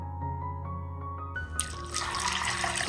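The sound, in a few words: pouring water over sago to soak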